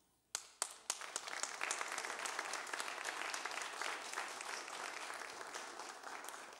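A church congregation at a United Methodist church applauds a long-serving member's retirement, a few early claps swelling into steady, sustained applause from a sizeable crowd in a reverberant sanctuary.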